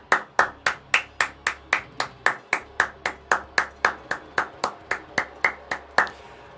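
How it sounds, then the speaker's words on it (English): Slow, evenly spaced hand claps, about twenty in a row, close and crisp at a steady rhythm with nothing else heard, marking a round of applause during a live wrestling watch-along stream. "Round of applause here from the live chat."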